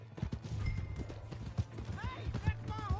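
Horse hooves clip-clopping in the video game Red Dead Redemption 2, a steady trotting rhythm close by, mixed with overlapping speech and a brief whinny-like call.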